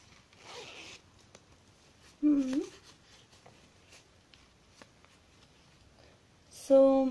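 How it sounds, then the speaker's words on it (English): Zipper on the currency note pocket of a Tchibo security wallet, heard close in two brief rasping pulls several seconds apart, with quiet handling noises between them and a person speaking. "for the currency note pocket there is a zip also, so that's quite safe it seems"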